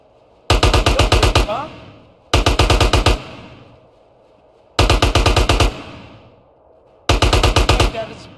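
Automatic gunfire in GTA San Andreas Definitive Edition: four loud, close bursts of rapid shots, each lasting about a second, separated by short pauses.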